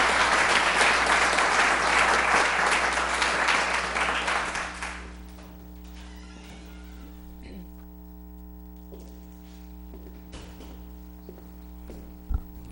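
An audience at a city council and mayoral candidate forum applauds the candidates, strong dense clapping that dies away after about five seconds, leaving a steady electrical hum.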